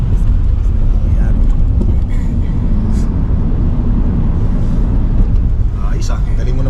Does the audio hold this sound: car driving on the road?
yes